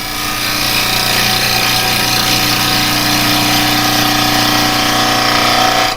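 A carbide woodturning tool cuts a bowl on a spinning lathe, making a steady, loud broadband whir and hiss with an underlying motor hum that runs unbroken throughout.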